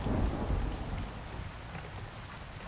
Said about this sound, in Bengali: তখনও বাইরে এক নাগাড়ে বৃষ্টি হয়ে চলেছে।